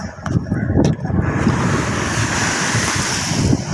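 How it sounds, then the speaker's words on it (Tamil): Rough sea on a shore, with heavy surf crashing continuously and strong wind buffeting the microphone. The roar is loud and steady throughout, with no talk. "கடல் எங்கேருந்து எவ்வளோ தூரம் அடிக்குதுன்னு பாருங்கள்"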